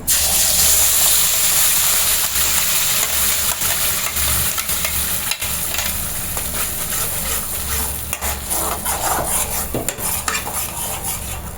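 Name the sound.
ground masala paste added to melted butter, stirred and sizzling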